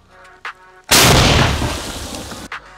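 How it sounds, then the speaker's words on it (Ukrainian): A single loud artillery gun shot, a sharp blast followed by a long rumbling decay lasting over a second, with faint thuds before and after. "Постріл по готовності."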